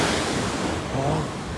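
Stormy ocean waves at Madhavpur beach, a loud continuous roar of crashing surf with wind rushing over the microphone, filling the whole moment without a break.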